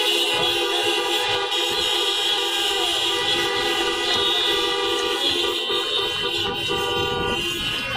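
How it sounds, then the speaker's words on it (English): Steady, loud chorus of car horns honking together at an outdoor high school graduation, overlapping long tones sustained without a break and no talking. "You can honk your horns now."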